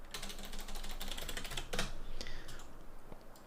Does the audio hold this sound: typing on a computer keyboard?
yes